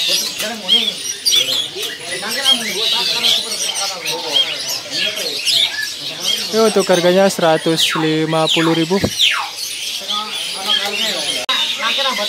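Perkutut zebra doves, including talang mas and Banyumili types, coo and chirp repeatedly inside a bird shop kiosk, close and loud, while someone talks over the calls throughout.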